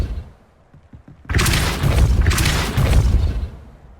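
The Depulso force spell cast in Hogwarts Legacy, a sudden loud whooshing boom that swells after a quiet start and holds for about two seconds before fading.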